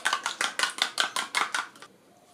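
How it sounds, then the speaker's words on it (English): One egg is beaten for an egg wash, about ten quick, rhythmic clacking strokes against a bowl close up, then they stop. "Now I have my egg wash here, just one egg. Just beat it well"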